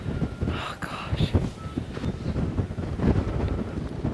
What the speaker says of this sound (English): the wind is killing me and my face